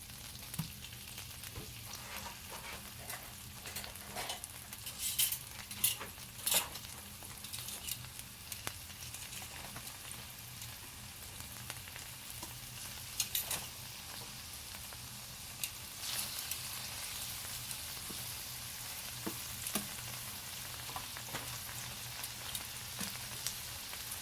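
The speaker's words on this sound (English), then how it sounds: "we got our skillet hot, and we got our shrimp, and they are going to go right in" Shrimp fry in a hot skillet with a soft, even crackle like light rain, broken by occasional louder pops, fairly quiet throughout.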